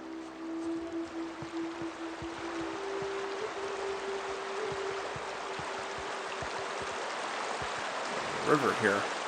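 A river flows steadily in The Outer Worlds, a constant, even rush of water underneath low ambient game sounds and faint thuds, with a brief clatter near the end.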